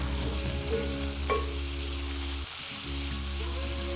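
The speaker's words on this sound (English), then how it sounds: "the final thing is a little bit of tomato paste. I've got about a tablespoon. And let that fry off." About a tablespoon of tomato paste sizzles and fries steadily in a pan, close and continuous, with a brief stir or scrape and a moment of quieter crackle midway.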